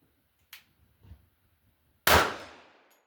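A single loud gunshot from a 1911 pistol at a shooting range rings out with a long decaying tail, preceded by a few fainter distant pops or clanks.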